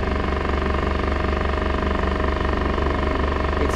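Tohatsu SailPro outboard motor idling aboard a sailboat, a steady, loud, continuous engine drone with an even low rumble throughout.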